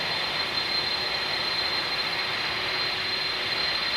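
Steady jet aircraft engine roar during a takeoff in a flight simulator game, continuous and loud with a sustained whine and no talking.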